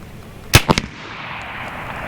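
An S45 Mini .45 caliber air pistol fires three sharp, loud shots in quick succession near the middle, with a faint fourth pop at the end over steady outdoor background noise.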